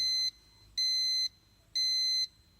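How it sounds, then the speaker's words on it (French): A motion sensor indicator gives three evenly spaced, shrill electronic beeps, each about half a second long, clear and alone against a quiet background. "on constate immédiatement que le voyant commence par biper et que la lampe s'allume"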